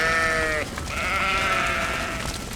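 Fine-wool sheep bleat loudly and close by on a farm, one drawn-out harmonic cry followed by another longer overlapping bleat, with no talking.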